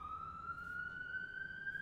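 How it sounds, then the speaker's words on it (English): A siren wails steadily in the background, its rising tone drawn out and moderately faint under room noise, with no one talking. "There's a siren going"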